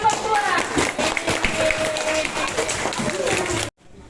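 A school class gives a group of students a round of applause, dense clapping and crowd noise that runs for a few seconds with voices mixed in, then cuts off abruptly.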